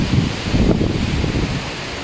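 Strong wind from Typhoon Ulysses gusts over houses in Urdaneta, Pangasinan, a loud, rushing roar that swells and buffets the microphone, steady without pause.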